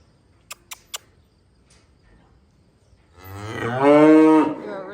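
Single long, loud moo from a cow during cattle sorting on a farm, rising after a few seconds of near silence broken by three faint clicks.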